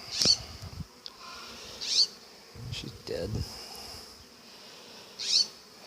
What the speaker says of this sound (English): There's freaking yellow jackets already here. They're attacking one of my bees.